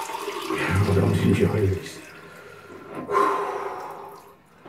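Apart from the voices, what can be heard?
rinsing face with cold water after shaving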